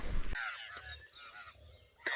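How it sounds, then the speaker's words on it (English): Crows caw loudly and repeatedly from nearby trees just after sunrise in the Australian bush during a deer hunt, harsh calls overlapping in quick bursts. "these fucking birds have just landed in the trees only just after sun up. They will not shut up."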